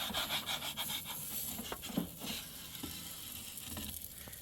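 A pepperoni sausage pizza scraping as it slides into a VEVOR wood-fire and propane outdoor pizza oven: soft rubbing and rasping contact with a few light knocks over a steady background hiss, close and fairly quiet.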